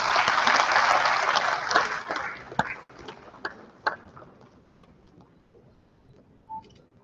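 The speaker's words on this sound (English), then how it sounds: "A big round of applause, please." A conference audience gives a round of applause, dense and loud at first, then thinning into scattered claps that fade away over several seconds.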